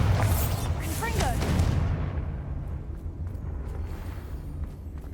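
A fiery Confringo spell blast goes off in the Hogwarts Legacy video game as a loud, broad burst crackling over the first two seconds, then fading into a rumbling tail with low background hum.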